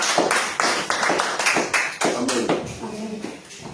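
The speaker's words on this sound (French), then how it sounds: "On acclame la parole de Dieu." A church congregation applauds in a run of loud, uneven claps and hand taps, while voices call out over the clapping.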